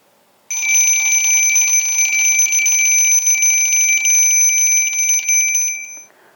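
A mechanical bell alarm clock rings continuously and loudly for about five seconds with a rapid metallic clatter, then cuts off.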